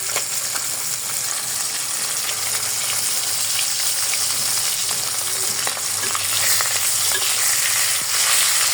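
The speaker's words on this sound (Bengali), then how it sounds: "এই যে আমি হচ্ছে মাছ ভাজি করতেছি, তো মাছগুলা ভাজি করে নেই" Small kachki fish frying in a pan, a loud, dense, continuous sizzle that holds steady and swells slightly toward the end, with faint stirring underneath; no talking.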